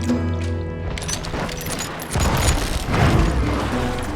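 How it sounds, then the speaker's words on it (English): Gunfire in the Wild West shooter Call of Juarez Gunslinger, a burst of loud booming shots and crashes over a thick, busy game soundtrack, growing heavier toward the end. "I heard the shots and I knew I had to move fast"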